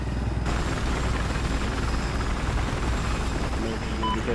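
Helicopter rotor and engine noise inside a Battlefield 4 match, a steady loud whir filling the whole clip with game combat din and voice chat chatter mixed in.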